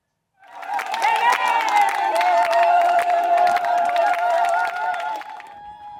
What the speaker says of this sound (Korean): 탄자니아 성도들이 비겔레겔레 환호성을 울리며 방문단을 맞이합니다